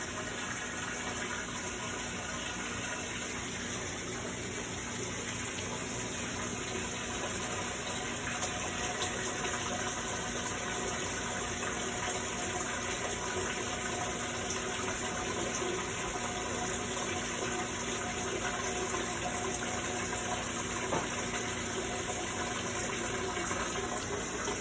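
Water pours steadily into a washing machine tub, roughly 13 or 14 years old with an overflow fault, as it fills; a continuous even rush runs unbroken throughout with no talking.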